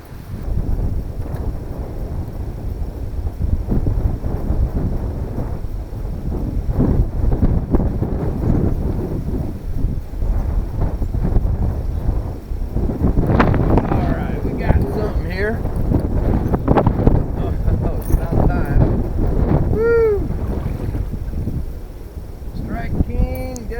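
Strong wind gusting across a lake during a bass fishing trip, a steady loud rumbling roar battering the microphone throughout with water sloshing beneath and a few faint tonal squeaks near the end.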